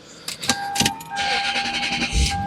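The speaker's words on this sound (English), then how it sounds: "Start the car." A 2003 Lexus SC430 starting up: key and starter clicks, then the engine catches and settles into a steady close idle, heard from inside the car with no talk.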